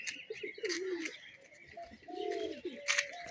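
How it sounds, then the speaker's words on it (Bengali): A pigeon coos softly in short, repeated low calls, faint and close, with a few higher chirps from other birds mixed in. "নতুন একটা পায়রা এসেছে।"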